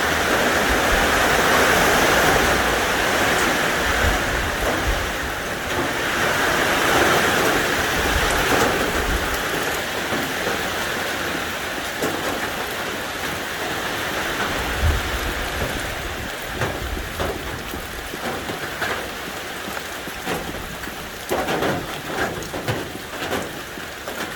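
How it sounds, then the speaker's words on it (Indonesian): Heavy rainstorm on Mount Slamet during a mountain hike, a dense, constant roar of pouring rain drumming on surfaces nearby, with no one speaking. "karena hujannya deras banget ini"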